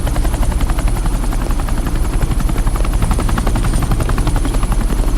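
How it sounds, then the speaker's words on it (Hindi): A helicopter landing on airport tarmac, its rotor thudding loudly and steadily as a dense rhythmic chop over a heavy low engine roar for the whole stretch, with no voices. "ये हेलीकॉप्टर सीधे एयरपोर्ट के टारमैक पे लैंड होगा।"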